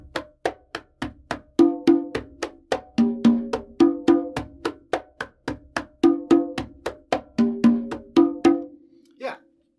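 Two conga drums played by hand in a clave-based rhythm, with sharp slaps and resonant open tones repeating in a lively, close pattern before the playing stops and a brief rustle follows.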